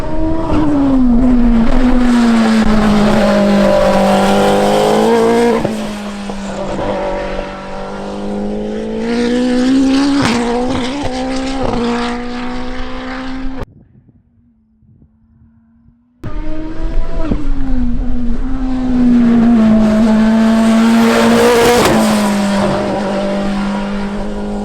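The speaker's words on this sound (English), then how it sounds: "the car sounds awesome" An Atlantic race car fitted with a 4A-GE engine, run on a Pikes Peak build, drives hard with a loud, sustained engine note that rises and falls through gear changes, cut by a brief near-silent gap midway before resuming.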